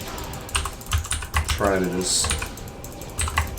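Rapid clicking from a mechanical keyboard and mouse during Diablo 2 gameplay, close and crisp, with a person speaking over the clatter.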